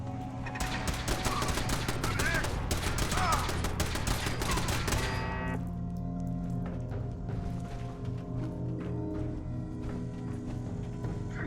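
Gunfire in the video game Fallout 4, dense rapid bursts of shots for about five seconds, then scattered lighter pops over a steady low background hum.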